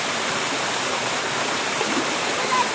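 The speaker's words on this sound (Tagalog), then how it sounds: "mas mataas ang falls niya kaysa kudra" Steady, full-bodied roar of a waterfall, taller than Kudra, pouring into a clear pool; a dense, unbroken rush of falling water fills the whole stretch without pause or voices.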